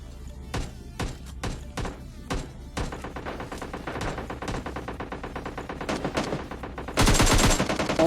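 Gunfire in the video game PUBG Lite: a few separate sharp shots, then fast, rapid-fire bursts that build into dense automatic fire, ending in a loud, harsh blast.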